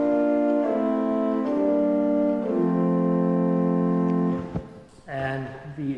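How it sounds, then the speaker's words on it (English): A church pipe organ's Prestant 8 stop, the front-case pipes, plays a short sequence of sustained, stepwise notes up close, then falls away into quieter sounds near the end. "I used the Prestant 8, which are the pipes you see on the front of the case."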